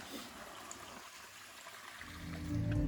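Water flowing in a small brook in Vermont or New Hampshire, a soft steady trickling wash heard up close with no talk, a louder low rumble rising near the end.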